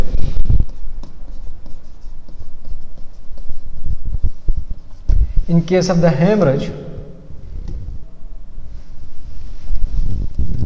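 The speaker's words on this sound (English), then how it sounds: "Let me draw the sketch." A pen sketches a diagram during a blood pressure physiology lecture, giving faint scratchy strokes and taps beneath a person talking throughout.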